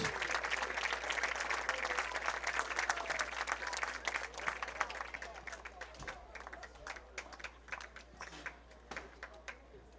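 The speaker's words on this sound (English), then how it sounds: "Let's give these guys a big round of applause." Loud, dense applause from an audience at a district baseball tournament, sustained at first and then thinning into scattered claps toward the end.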